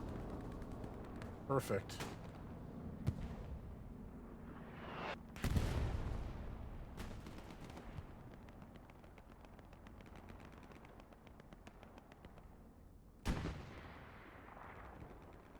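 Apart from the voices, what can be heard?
aircraft strafing run gunfire in the video game Hell Let Loose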